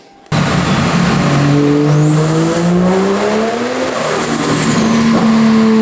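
A 500 hp Toyota JZX100 with a 2JZ engine revs hard on a dyno, its loud exhaust note climbing steadily in pitch through a short full-throttle pull, easing briefly, then rising again.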